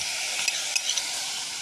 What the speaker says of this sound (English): A good sizzle going on.